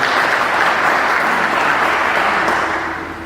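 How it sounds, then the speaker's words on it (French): Loud, dense applause from a conference-debate audience, steady for about three seconds before starting to fade, with no cheering voices standing out. "On acclame encore très très fort pour lui."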